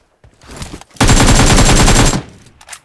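A loud, rapid burst of automatic gunfire in PUBG Mobile rattles for about a second close up, preceded by a few scattered shots and followed by a faint trailing shot.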